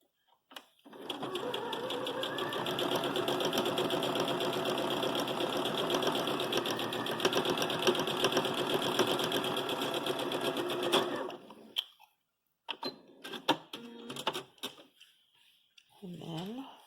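A sewing machine runs continuously for about ten seconds as it stitches fabric pieces for quilt blocks, a fast, even whirring hum that then stops abruptly, followed by a few scattered clicks and handling sounds.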